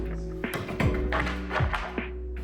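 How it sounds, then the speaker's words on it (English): Cut-out holes in a sheet for a radiator cover being punched out, a handful of dull knocks and taps spaced irregularly over a low background hum, close by. "It's quite fun to punch out the holes."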